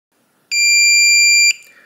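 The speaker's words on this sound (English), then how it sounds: "once you hear that long beep, release it" A Weiser Powerbolt 3 electronic door lock gives one loud, steady electronic beep lasting about a second during a factory reset, with no speech around it.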